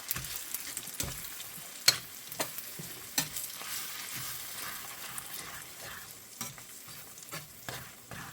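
Eggs sizzle and fry in a Modern Innovations 10-inch skillet while a utensil stirs and scrapes them, with intermittent soft knocks against the pan over a steady sizzle.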